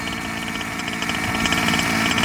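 A modified Taylor 35 piston-port kart engine runs steadily close by, a loud, buzzy, vibrating drone that climbs slightly toward the end, with no talking.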